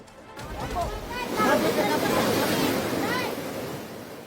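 A broad, continuous roar of rushing flash floodwater swelling and holding steady, with distant voices and shouting faintly mixed in beneath it, during a rescue in Palimbang, Sultan Kudarat.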